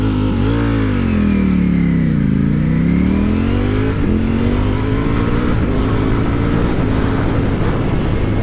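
A Ducati Panigale V4 S accelerates on the road, its loud, close engine note rising steadily in pitch, dipping briefly, then climbing again through a continuous hard-revving pull without any talking.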